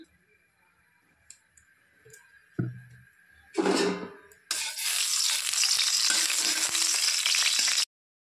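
Mustard oil is poured into a kadai set on the stove, starting with a few clicks and knocks, then a brief splash and a loud, steady sizzle that holds close and bright before cutting off abruptly.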